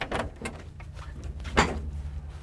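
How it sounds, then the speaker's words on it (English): Back doors of a full electric van being opened, a few close mechanical clunks and latch thuds with one louder thump near the end, heard without speech. "If you open the back doors"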